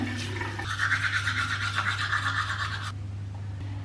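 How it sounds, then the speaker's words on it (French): Close, steady scrubbing of a toothbrush on teeth, a rapid back-and-forth bristle rasp over a low background hum that stops abruptly near the end. "Souvent à ce moment-là, je brosse mes dents."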